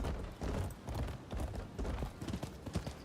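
Horse hooves clip-clop in the video game Rise of the Ronin, a steady rapid galloping beat that runs continuously and fairly close, with no talking over it.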